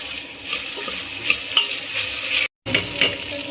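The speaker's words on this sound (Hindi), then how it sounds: "इसमें शिमला मिर्च डाल के इसको मिक्स कर दिया गया है।" Chopped capsicum sizzles in a hot pan for Maggi while being stirred, with bright crackling and scraping stir strokes, a brief dropout near the middle, then the frying resumes.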